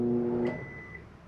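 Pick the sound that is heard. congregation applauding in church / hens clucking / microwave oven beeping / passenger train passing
microwave oven beeping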